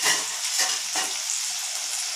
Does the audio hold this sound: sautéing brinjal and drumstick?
yes